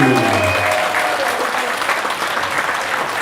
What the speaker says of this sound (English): why not once again a round of applause to our husband and wife, Marina and Nazri